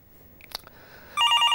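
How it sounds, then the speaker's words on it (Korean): A telephone rings on a Korean stock-market call-in broadcast: after a few faint clicks, a loud electronic ring bursts in with a rapid, warbling trill, close and clear without talk. "자, 전화 받아보겠습니다."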